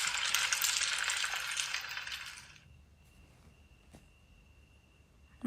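Garam masala and chili powder are stirred in a hot pan for Malnad chicken biryani, with a loud scraping sizzle for about two and a half seconds, then near quiet with a faint clink.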